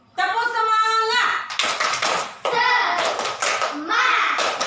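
Schoolchildren in a classroom perform the tepuk semangat clapping chant, children's voices chanting in unison with rhythmic hand claps and taps, loud and close, in bursts across several seconds.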